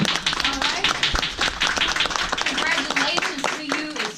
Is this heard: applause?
yes